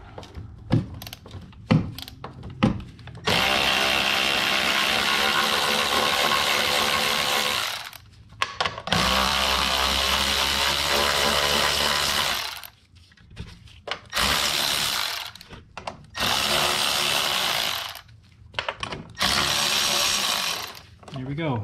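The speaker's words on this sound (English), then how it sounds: "now we'll back out the rest of these 13 millimeter." Power tool backing out 13 mm bolts on a 2002 Lincoln LS front strut and upper control arm, loud sustained whirring runs in several bursts separated by short pauses with clanks and brief speech between them.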